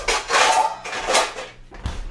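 Pots and pans clank and bang in a kitchen drawer as they are pulled out, three or four clattering bursts close by in quick succession.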